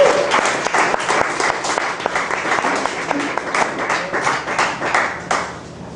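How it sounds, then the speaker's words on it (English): An audience at a poetry reading applauds steadily, dense clapping from a room of listeners holding for several seconds before thinning toward the end. "I'd like to start with a round of applause for Tom Peters"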